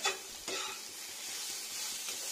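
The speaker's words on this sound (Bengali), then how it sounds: "এবার কন্টিনিউ নাড়া দিতে হবে" Bitter gourd frying in a pan with turmeric and salt, stirred continuously: a steady close sizzling hiss with sharp scraping stir strokes near the start and again about half a second in, then a softer ongoing fry.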